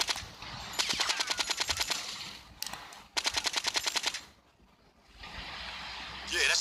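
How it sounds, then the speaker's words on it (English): Automatic gunfire in GTA 5 played on PPSSPP, two rapid bursts of evenly spaced shots, each about a second long, loud over game ambience and background noise, with a quieter stretch before a final rise in noise. "Yeah, that's right, it's a gun."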